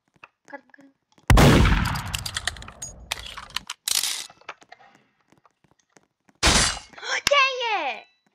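Gunshots fired in a Roblox murder mystery game, a sharp loud burst followed by scattered shot-like cracks and a later crack, with excited voices talking over parts of it.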